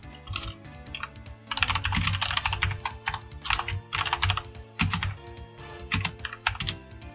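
Computer keyboard typing a server operator command while setting up a Minecraft Alpha 1.2.6 server, with rapid, uneven clicky keystrokes in continuous bursts, close and clear, with brief pauses between words.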